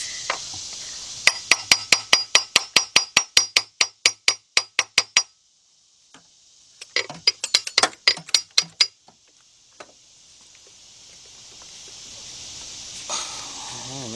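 Sharp metallic hammer blows strike a water pump to loosen it from a car engine during a timing chain job, a fast rhythmic run of ringing hits, a pause, then a second burst of blows.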